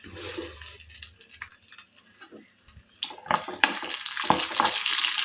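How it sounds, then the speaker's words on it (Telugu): Mustard seeds, cumin, garlic and curry leaves crackle in hot oil in a kadai, a steady sizzle with sharp pops and spattering bursts growing louder toward the end, no voices. "కడాయి పెట్టేసి ఇందులో ఆయిల్ యాడ్ చేశాను ఆయిల్ కూడా హీట్ అయిపోయింది ఇంకా ఆవాలు జీలకర్ర వెల్లుల్లి అలాగే కొద్దిగా కరివేపాకు"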